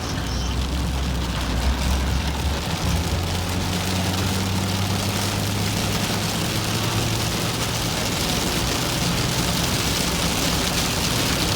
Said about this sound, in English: It's raining so hard I can't hardly.